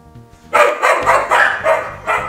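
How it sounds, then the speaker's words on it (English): A dachshund toy barks in a quick series of sharp, loud yips close up, about six barks in a ragged rhythm after a brief quiet start. "Oh, wiener dogs, always so loud."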